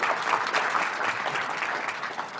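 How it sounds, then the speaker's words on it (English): Audience at a summer insurance summit session gives steady applause, a dense, even patter of clapping hands lasting a couple of seconds with no talk over it. "how about a round of applause for Robin and her hard work here for our independent agents?"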